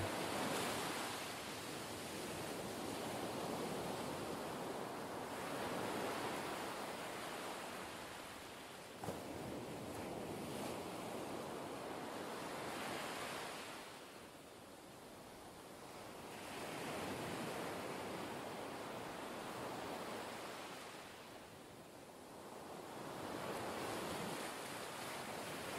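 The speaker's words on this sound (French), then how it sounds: "vous laisser bercer par le bruit des vagues" Ocean waves roll in and recede in slow, regular surges, a soft, continuous wash of surf with no voices.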